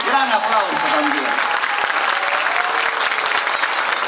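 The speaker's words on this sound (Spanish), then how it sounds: "Colegio Gabriela Mistral, gran aplauso también." Audience applause at a Folk-Rock gala concert marking a city anniversary, lively continuous clapping with a crowd texture, while an announcer speaks over the start and voices carry through the ovation.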